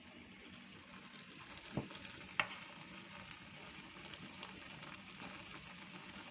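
Mushrooms and white onion being stir-fried in a pan give a steady, low sizzle with a couple of sharp utensil clacks partway through, and there is no talk.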